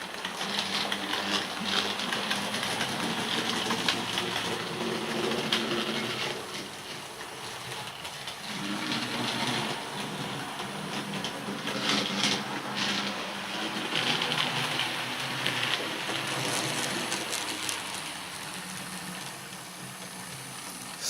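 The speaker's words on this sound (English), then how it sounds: "if we just see the loco go around now, it's a good motor they've got in it" Bachmann BR C Class model locomotive running around a track, a steady, faint whirring motor hum with rail clatter that swells and fades as the engine passes, with no voices.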